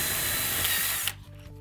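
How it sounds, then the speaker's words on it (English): Power drill boring a hole into a ceiling with a dust-catching cup pressed against it, a loud whining hum for about a second that cuts off abruptly, leaving the motor's faint winding down. "press the cup tight against the ceiling. That's very important. And then drill the hole."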